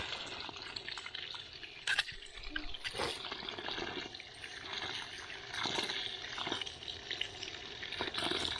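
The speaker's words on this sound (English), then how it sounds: "Time to wash the thistles." Thistles are washed in water, heard as a continuous faint splashing and trickling with occasional sloshes and soft knocks, close and fairly quiet.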